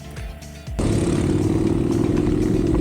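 Scooters and motorcycles, including a Yamaha NMAX and a Honda PCX, on a group ride: an engine surges from a lower rumble into a loud, close, sustained drone, with no talking.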